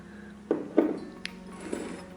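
Folded paper lots are tossed one by one into an empty cup for a prize draw. Four light, sharp taps and clinks land at uneven intervals over a quiet background.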